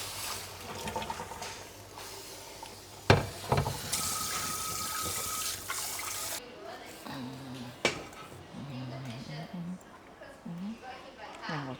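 Raw chicken feet are rinsed and rubbed under a running tap in a sink, with a loud hiss of flowing water and sloshing, then a voice speaking over quieter water handling.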